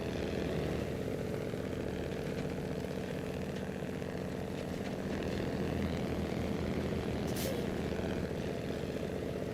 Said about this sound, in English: Crashing the Splinter Cell plane. You'll see it take off. It comes tumbling down.